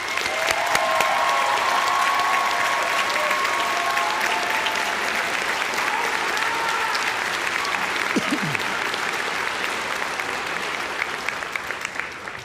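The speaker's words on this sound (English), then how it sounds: "Frank Church staff members, would you please stand and be recognized with a round of applause?" Sustained applause from a large audience at a 2023 high school graduation ceremony honoring school staff, a dense, even roar of clapping filling the hall throughout, with faint crowd murmur underneath.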